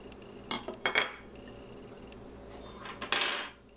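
A utensil scrapes and clinks against a bowl while sugars and spices for a pumpkin pie filling are mixed, in a few soft, close bursts with quiet gaps between.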